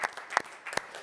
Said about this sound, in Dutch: die mag een applaus krijgen voor de tweede plaats